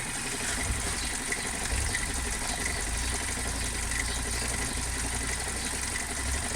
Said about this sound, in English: switch off the engine